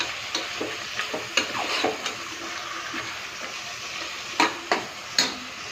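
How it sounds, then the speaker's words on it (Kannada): Chicken being mixed and fried in a pan for chicken pulao, a continuous sizzle with scattered scrapes and knocks of a spoon against the pan, louder clusters toward the end, close up with no talking. "ಚಿಕನ್ ಹಾಕಿದ್ಮೇಲೆ ಇದಕ್ಕೆ ಚೆನ್ನಾಗಿ ಮಿಕ್ಸ್ ಮಾಡಬೇಕು. ಬಟ್ ಹಸಿ ವಾಸನೆ ಹೋಗೋ ತನಕ ಚೆನ್ನಾಗಿ ಫ್ರೈ ಮಾಡಬೇಕು."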